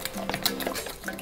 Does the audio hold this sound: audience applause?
no